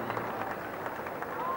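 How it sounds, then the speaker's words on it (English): A cricket crowd at a match against South Africa applauds a bowler leaving the field, a steady spread of clapping and crowd noise heard at a distance under a commentator's voice. "And Langer's getting a clap off the field."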